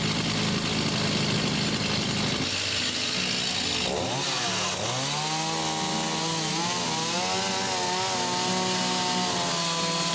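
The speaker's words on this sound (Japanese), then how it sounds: "一番簡単なのがこのチェーンソーでぶち切って落とす。" A chainsaw cuts through old wood on a traditional veranda being torn out during a renovation, its engine snarling continuously and shifting pitch as the chain bites in, loud and close with no talk.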